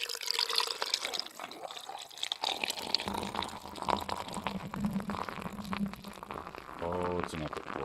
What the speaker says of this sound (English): Oh, it's an epic pour.